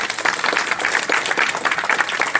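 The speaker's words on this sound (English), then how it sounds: "Give yourself a big round of applause." An audience at a San Jose State University Asian American Studies alumni reunion applauds, a dense, lively patter of many hands clapping at close range without pause.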